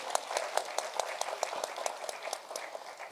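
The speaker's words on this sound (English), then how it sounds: "Please join me in giving her a lusty round of applause." Applause at a graduation ceremony for a speaker, fairly sparse, with distinct individual claps standing out in an uneven rhythm, moderately quiet and slightly distant.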